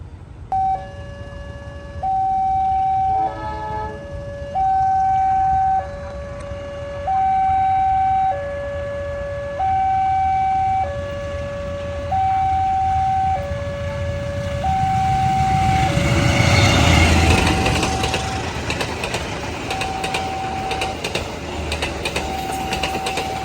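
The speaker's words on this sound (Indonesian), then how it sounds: "sebentar lagi akan melintas langsung kereta api Sri Tanjung" A two-tone warning bell alternates steadily at Porong station, then the Sri Tanjung passenger train rumbles through with a loud rushing roar that swells and lingers.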